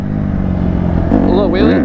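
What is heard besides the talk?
straight-piped dirt bike exhaust revving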